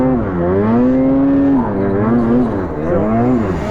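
A Lynx snowmobile engine side hilling over a hard snow layer holds a loud, close, droning tone that rises and dips as the throttle is eased on and off.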